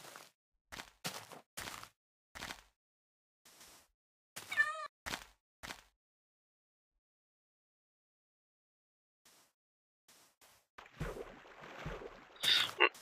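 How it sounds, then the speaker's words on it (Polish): Cat meowing in the Minecraft video game, one short near meow among scattered blocky thuds and footsteps, followed by a long quiet stretch and a louder jumble of game noise at the end. "O! Dziwny kot. Tyle go wykarmiłem, on się nie chce dać złapać."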